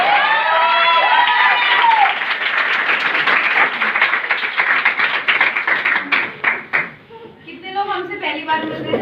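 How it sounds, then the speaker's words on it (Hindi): Loud crowd applause mixed with cheering and whoops at a Modicare earnings event, strong at first and then thinning into scattered claps as a voice starts speaking near the end. "जोरदार तालियां मेरे लिए।"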